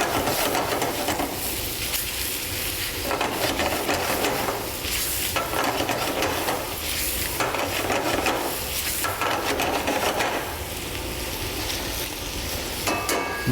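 Shrimp sizzle and crackle in a hot pan while cooking for risotto Milanese, a steady loud frying hiss with occasional stirring sounds throughout.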